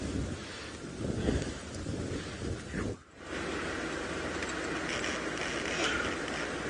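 Gusting wind on an open safari drive buffets the microphone in a continuous, rough rumble that swells and eases, with a brief drop in the middle before the blowing resumes at steady strength.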